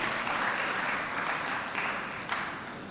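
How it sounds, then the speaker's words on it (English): A school audience applauds at a secondary school's 25th anniversary celebration, with sustained dense clapping that slowly fades over a few seconds, heard alone. "let's give them a wonderful round of applause"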